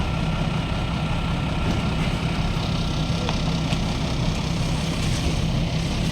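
A diesel fishing boat engine idles steadily, giving a continuous low, even drone that stays at the same level throughout, with no talking.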